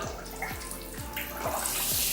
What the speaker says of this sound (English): I'm adding this bath bomb and I'm hoping that it will turn the water red.